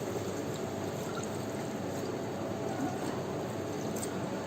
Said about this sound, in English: This is the time I'm going to add some water to this for the prawns to get cooked.